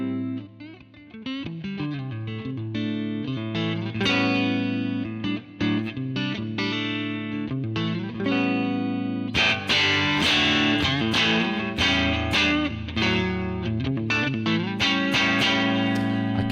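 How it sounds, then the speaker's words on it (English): Electric guitar played through a Fractal amp modeler with a light drive setting, sustained chords and single notes carrying a mild, gritty distortion, loud and continuous with no talking. "But there is the small distortion, the bit distortion is very nice to hear,"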